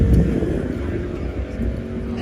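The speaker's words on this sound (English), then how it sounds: "Again? Oh, burnouts." Car burnouts at a car meet make a loud, steady engine roar with a rumbling low drone and tire noise from nearby, filling the whole stretch without a break.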